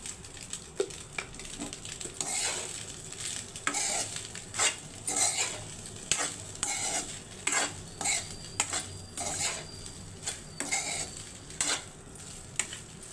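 Spoon stirring salt through egg rice in a pan, a steady run of scraping, clinking strokes over a low sizzle, close and alone with no talk.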